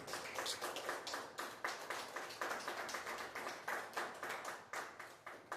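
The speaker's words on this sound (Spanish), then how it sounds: "Da un aplauso al Señor Jesucristo por eso." Steady rhythmic hand clapping from a church congregation, a run of sharp, evenly spaced claps at moderate distance with no talking over it.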